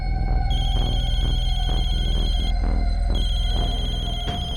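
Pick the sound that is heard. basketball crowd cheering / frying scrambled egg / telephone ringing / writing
telephone ringing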